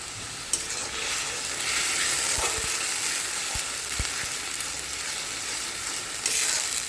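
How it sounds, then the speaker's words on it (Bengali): Ginger and green chili paste sizzles and fries in a pan, a steady close hiss broken by soft scraping taps of a spoon as it is stirred, with no talking. "চলো খুব সুন্দরভাবে আমি নাড়িয়ে ছাড়িয়ে নেবো আদা আর কাঁচা লঙ্কার পেস্টটা"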